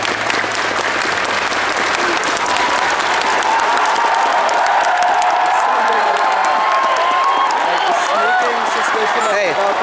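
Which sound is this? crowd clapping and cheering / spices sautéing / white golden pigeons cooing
crowd clapping and cheering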